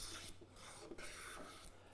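A bench plane shaves a board in a woodworking shop, giving a close, soft, rasping hiss in a few back-and-forth strokes with brief pauses and no talking.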